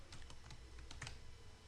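Quiet, rapid typing on a computer keyboard, a steady patter of light key clicks with no voices.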